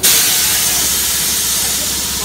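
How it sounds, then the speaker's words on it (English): Loud, steady hiss of air escaping from a 16-inch tire on a tire changer machine in a noisy shop with a compressor running, continuous and close throughout. "So this tire machine is used to get the air out."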